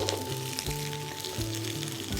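Okra frying in mustard oil in a pan gives a steady, soft crackling sizzle with faint rhythmic knocks every half second or so, close but fairly quiet, with no voices.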